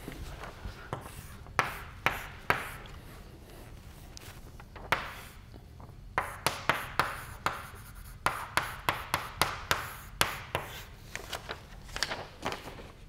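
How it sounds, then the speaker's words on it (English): Chalk writing on a blackboard during a mathematics lecture, with irregular bursts of sharp taps and scratchy strokes, some louder clicks as the chalk strikes, close and alone with no talking. "running out of chalk here"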